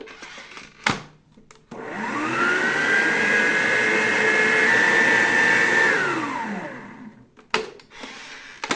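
An electric mixer beats red velvet cake batter in one continuous, steady whir lasting several seconds, bracketed by brief clatter at the start and end.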